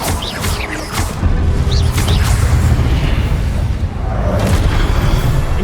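Confringo blasting curse fired in Hogwarts Legacy, loud sustained booming with deep rumbling explosions and crashing debris, preceded by a few sharp magical whooshes.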